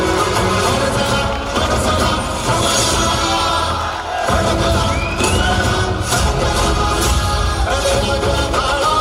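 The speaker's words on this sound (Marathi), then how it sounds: "टाळ्या थांबल्या नाही पाहिजे" An audience at an annual Mallakhamb gathering keeps up dense, loud, continuous clapping and cheering throughout. The noisy crowd wash briefly dips near the middle, then swells again with scattered shouts.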